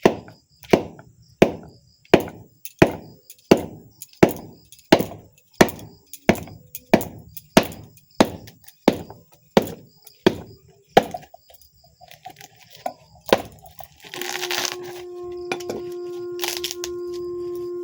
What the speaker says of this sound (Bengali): নারকেলটাকে চেলা করে দেখি